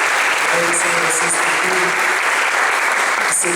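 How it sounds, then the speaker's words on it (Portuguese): A church congregation giving steady, continuous applause throughout, with voices faintly under the clapping. "Uma salva de palmas para os irmãos"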